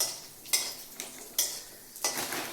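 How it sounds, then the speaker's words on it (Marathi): Urad dal and chana dal are stirred and sautéed in a pan, with a steady sizzling hiss broken by a few sharp spoon-scrapes against the metal, close and with no speech. "थोडीशी उडदाची डाळ, चना डाळ परतवून घ्यायची चांगली"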